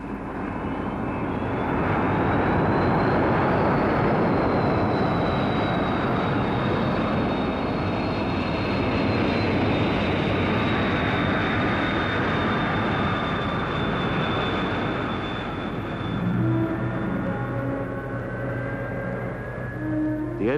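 XB-70 jet aircraft in flight, its engines giving a long, loud, steady roar with whining tones that slowly drift downward, sustained for about twenty seconds with no voices.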